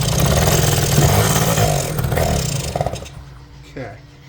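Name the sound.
1980 Suzuki Snip FS50 engine revving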